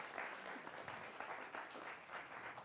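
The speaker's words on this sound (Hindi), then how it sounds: "तो जोरदार तालियों के साथ आपका भी" Studio audience applause on a Hindi news debate set, a steady wash of clapping from many hands that holds at an even level for the whole stretch, with no voice over it.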